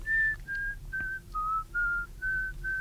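A person whistles a short classical-style tune, seven clear sustained notes stepping down and back up, close and alone with no talking.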